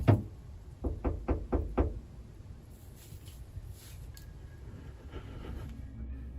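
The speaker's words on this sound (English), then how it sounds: "knocking on the side and even trying the door handle" Knocking against the side of a camper van, about six heavy knocks in a fast cluster, followed by faint shuffling and small rattles outside in otherwise quiet surroundings.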